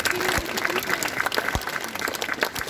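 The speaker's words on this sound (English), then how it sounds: "Give a big round of applause to Visakha" Students at a school assembly clap for a classmate, a lighter, uneven patter of applause with a few sharp individual claps standing out and faint murmuring underneath.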